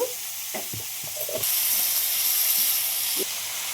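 Chopped onions frying in a pan with salt and half a spoon of turmeric, a steady close sizzle and hiss with a few scraping stirs, growing louder partway through and holding to the end.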